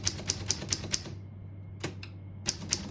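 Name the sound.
typing on 1938 Corona Standard portable typewriter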